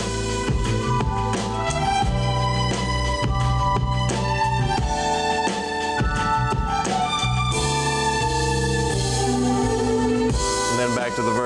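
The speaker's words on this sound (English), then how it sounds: "So the strings come back in. The Rhodes comes back in." Strings and a Rhodes electric piano re-enter a full, dense mix, layered chords and sustained tones playing continuously at steady loudness.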